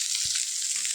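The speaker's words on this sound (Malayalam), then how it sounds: "ഇതൊന്നുകൂടി പൊരിയട്ടെ" Fish frying in coconut oil gives a steady, close hiss of sizzling with a brief low thump partway through.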